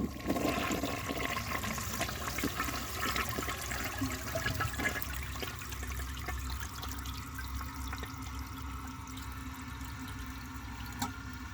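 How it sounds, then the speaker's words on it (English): A 1953 AllianceWare toilet, a Crane-style design and partly clogged, flushes with a loud rushing roar that slowly eases into steady swirling and trickling water, close up with no talking. "I'm going to flush it a second time and see if it can take that by itself."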